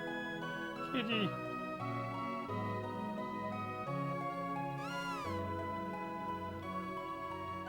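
A cat meows in the video game Chrono Trigger, two short chirpy meows standing out over steady, looping game music.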